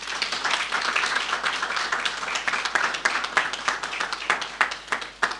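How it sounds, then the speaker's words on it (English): Applause at a phlebotomy class graduation ceremony: a room full of people claps steadily for several seconds, a dense patter of individual hand claps with a few louder near ones standing out. "Another round of applause"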